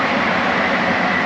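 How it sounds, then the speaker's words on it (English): A loud, steady rumbling roar of a train passing close by at King's Sutton, broadband and continuous with no voices. "There goes the train."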